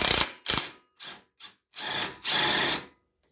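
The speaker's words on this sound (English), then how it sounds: "You'll need an 18 millimeter socket and a wrench for the back." A socket wrench ratchets a bolt off the front axle of a John Deere LA145 riding lawn mower, close by, in short clicking bursts that lengthen into two steady runs before stopping.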